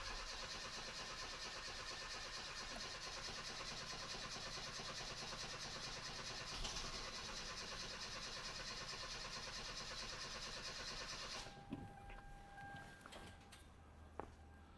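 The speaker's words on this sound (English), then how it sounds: "we had a couple seconds of slower cranking and then it picked up speed" A Hyundai Veloster Turbo with a cranks-but-won't-start fault, its starter cranking steadily for a long, unbroken stretch before the sound cuts off and gives way to quieter engine noise.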